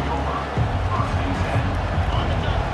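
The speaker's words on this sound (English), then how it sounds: "This crowd bringing the energy and noise early." Stadium crowd at an NCAA college football game roars steadily with a dense, continuous hubbub of cheering and chatter throughout, loud and broad without any clear break.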